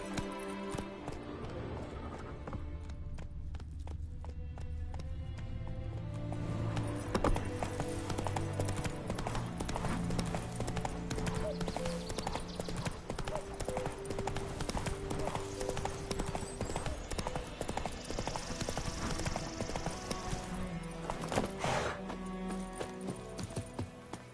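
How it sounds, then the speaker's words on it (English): Horse hooves clip-clop at a steady galloping run through The Witcher 3 video game, continuous and fairly close, with a brief whinny and game music and effects layered underneath. "That's it, Roach"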